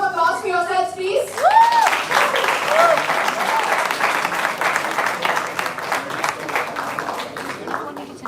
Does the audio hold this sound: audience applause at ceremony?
yes